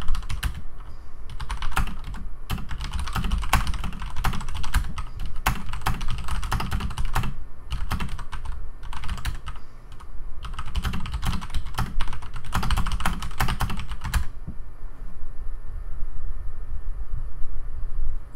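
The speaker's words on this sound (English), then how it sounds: "Like I keep typing and I don't have a backspace key" Rapid bursts of typing clatter from a computer keyboard in close, loud clusters with brief pauses between them, then stop near the end and leave quiet room noise.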